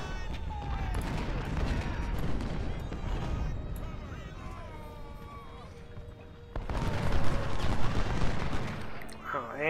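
Civil War howitzer batteries firing in Ultimate General: Civil War, a continuous din of booming shots and crackling musketry, swelling louder near the end, with someone talking over part of it.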